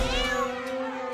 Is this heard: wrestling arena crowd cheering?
no